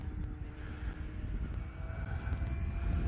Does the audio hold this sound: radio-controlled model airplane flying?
yes